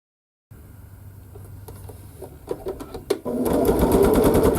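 A sewing machine stitching a quilt block starts up after a moment of silence, running in short bursts before settling into a loud, fast, continuous whir near the microphone.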